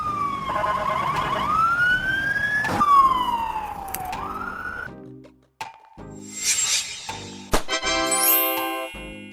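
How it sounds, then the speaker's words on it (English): A Danish ambulance siren, on a Mercedes-Benz Sprinter, Volkswagen Crafter or Peugeot Boxer, sweeps loudly up and down in long wailing tones. It is then cut off and followed by broken, stuttering yelp and tone bursts. "primarily uses Mercedes-Benz Sprinter, Volkswagen Crafter, and Peugeot Boxer ambulances"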